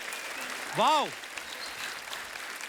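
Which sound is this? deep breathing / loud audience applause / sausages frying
loud audience applause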